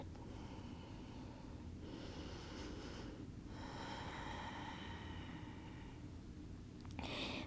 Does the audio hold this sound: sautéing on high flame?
no